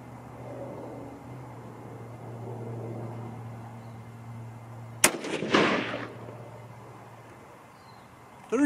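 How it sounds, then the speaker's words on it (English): .243 Win rifle fired with Sierra 80 grain bullets: a single sharp, loud shot cracks out partway through, followed by a brief rumbling echo, with a low steady hum before and after. "here we go with the first three shots. With the 80 grain"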